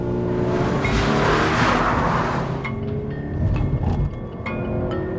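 A Subaru BRZ driven hard on a race track, its engine roaring loud and close as it revs through corners, with a brief tire squeal and the note rising and falling as the gears change.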